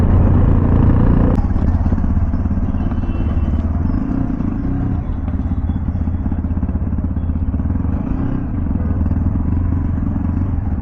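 A Hero Xpulse 210 motorcycle, just back from its second service, runs close by with a loud, steady engine rumble and a sharp clatter near the start.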